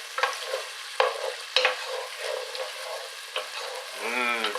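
Onions sizzle and fry in a pan for tomato soup, with repeated stirring scrapes and taps over a steady hiss, close by and fairly loud, no talking.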